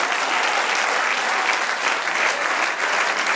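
A church congregation applauds together in sustained, dense clapping, steady and fairly loud throughout with no break.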